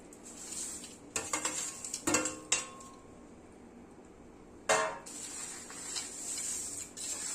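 Maize poha chivda being tossed in a pan with curry leaves, coconut, peanuts and roasted chana dal gives a few close metallic clinks and scrapes of the spoon early on, one more later, with quiet stretches between.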